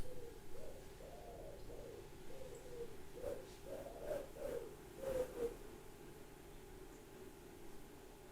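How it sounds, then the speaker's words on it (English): Outdoors in Bournemouth, a pigeon or dove gives a repeated series of soft, rhythmic coos in short rising-and-falling phrases, fairly faint against a quiet background with no talking. "The bird."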